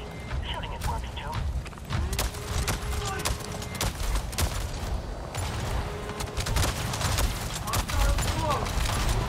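Gunfire in Avatar: Frontiers of Pandora aimed at a fuse box, a dense run of repeated shots and impacts over steady game ambience, with a voice speaking over parts of it.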